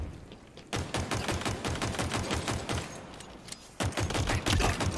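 Rapid automatic gunfire in the video game Halo Infinite, two sustained bursts of dense, fast shots separated by a short pause, loud and close with no voices.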